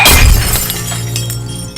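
Glass breaking in a domestic drama scene, with a loud crash and shatter at the start that trails off into lingering debris and room noise.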